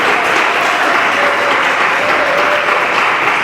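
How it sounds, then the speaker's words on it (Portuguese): A church congregation claps hard for Jesus during a sermon, producing loud, dense, continuous applause that holds steady throughout. "Podem bater as palmas bem forte para Jesus."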